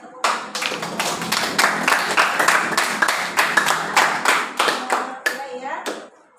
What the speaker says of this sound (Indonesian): luar biasa tepuk tangan